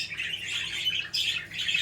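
Many small birds at a breeder raising Rainbow and Japanese birds chirp and tweet in a dense, continuous chorus of high calls, fairly close and loud, with no talking over it.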